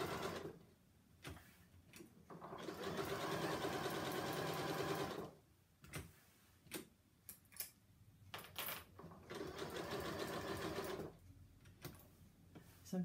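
A sewing machine stitches in several bursts, a fast mechanical whir that starts and stops, with short pauses and clicks between runs.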